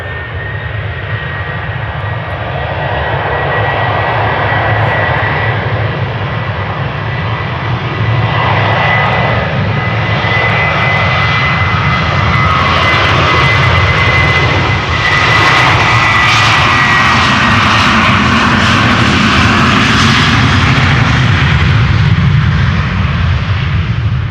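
Delta Airbus A330 jet engines at Amsterdam Schiphol Airport after a rejected takeoff give a loud, continuous roar and broadband hiss with a steady whine, holding strong for the whole stretch, with no voices.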